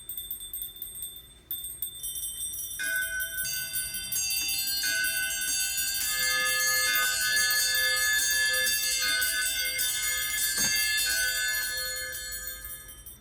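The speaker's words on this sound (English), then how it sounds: "Soon it rang out loudly, and so did every bell in the house." Many bells ring loudly together, bright overlapping tones building after a quieter start into a dense, sustained jangle before easing slightly at the end.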